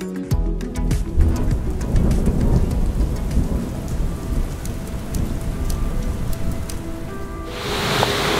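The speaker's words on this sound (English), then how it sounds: "it started raining" Steady heavy rain pours down while deep rolls of thunder rumble throughout, loud and close.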